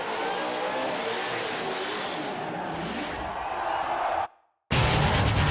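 A burnout car at the Summernats Burnout Masters in Brashernats, NSW, revs its engine hard in a loud sustained roar, drops away briefly, then blasts back at full volume.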